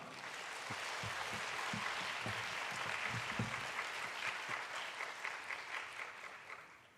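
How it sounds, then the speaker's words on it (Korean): A church youth-gathering audience welcomes a pastor with sustained, dense applause. The clapping is loud and continuous, then thins into scattered claps toward the end. "우리 목사님 큰 박수로 맞이하겠습니다"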